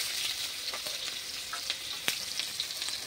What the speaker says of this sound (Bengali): পেঁয়াজগুলো এবার দিয়ে ভালো করে একটু ভেজে নেব